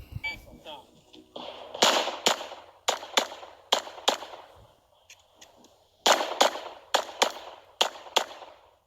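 Glock 45 pistol fired during a USPSA match stage: sharp, loud shots in quick strings, one burst, a brief pause, then another rapid series of cracks with echo between them.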